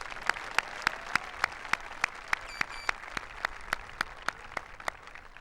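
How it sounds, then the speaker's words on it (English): An audience at a Plymouth Whitemarsh High School graduation ceremony claps in a sparse, even rhythm, a few distinct hand claps standing out over a soft bed of lighter clapping. "Let's give them a round of applause and a thank you."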